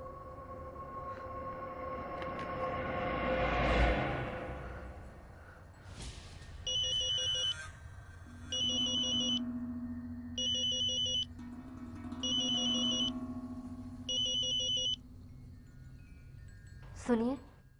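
A telephone rings in bursts, five evenly spaced electronic trills over a low steady tone, following an earlier rising whoosh, then cut short by a sharp sound at the end.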